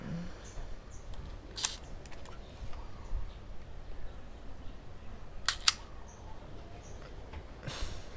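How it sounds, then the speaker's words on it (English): An Argus film camera's shutter fires a few times at different speeds, each a sharp brief click spaced by quiet room tone, near and fairly faint. "So the shutter all works."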